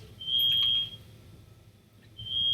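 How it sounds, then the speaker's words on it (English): A household smoke alarm, set off by burned food, sounds a piercing high-pitched electronic beep, then falls silent and resumes with a second long beep over a low background rumble. "Can that horrible beeping stop, please? No, because Dad burned stuff."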